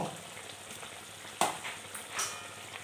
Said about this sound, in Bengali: এখন এখানে আমরা মাছগুলি দিয়ে দেব।